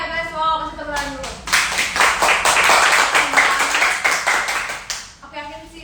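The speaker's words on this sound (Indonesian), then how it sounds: "Wow, kasih tepuk tangan dulu." A studio audience claps at an Indonesian talk show, a burst of brisk applause lasting several seconds, framed by a host's voice before and after.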